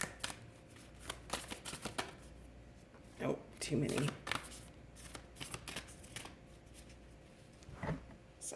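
A deck of tarot cards is shuffled close up in quick riffling bursts, with one heavier flurry midway and scattered clicks around it, and a voice speaks briefly.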